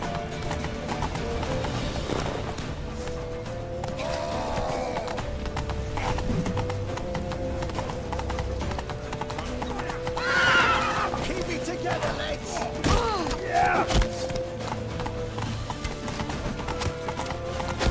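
Horse hooves clip-clop at a gallop with a couple of whinnies, set against steady game music and ambience in The Witcher 3: Wild Hunt, with voices talking over the ride.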